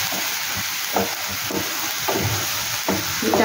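Onions fry in ghee with garam masala for shahi paneer, a loud, dense sizzle with stirring scrapes of a spoon through the pan every second or so.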